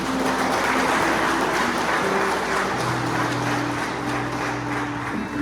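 Church congregation applauding together, a dense steady wash of clapping that fills the room for several seconds at an even level, with low sustained tones underneath and no talk.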